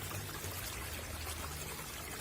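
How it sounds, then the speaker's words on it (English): Running water pours steadily down a drain, a continuous even hiss and rush that stays level and close throughout, with no voices. "And we're running the water"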